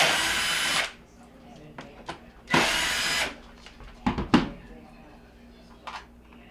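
A power screwdriver removes screws from the control panel of a Maytag dishwasher, giving two loud, close whirring bursts separated by small clicks and taps of handling.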